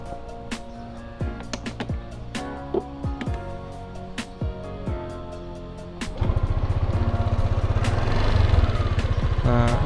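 A Yamaha Lexi scooter, fitted with an NMAX rear disc brake, starts about six seconds in and settles into a steady, loud running drone after a stretch of clicks and workshop knocks.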